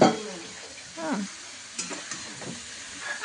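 Carrots stirred and frying in hot ghee for Bengali carrot halwa, a soft sizzle with a few scraping stir strokes and faint utensil clinks, close and unhurried, no talk.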